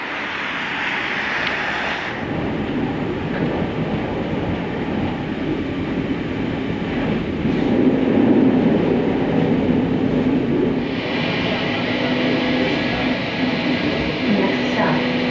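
A Chicago Blue Line subway train rides along with a loud, steady rumble and rushing roar, the pitch and intensity shifting as it runs, and muffled voices can be heard underneath.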